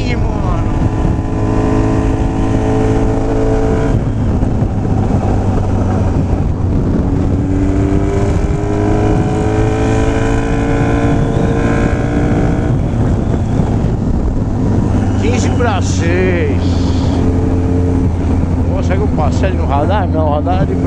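Suzuki B-King naked motorcycle engine while riding, a loud close roar rising and falling through revs with wind buffeting the microphone throughout.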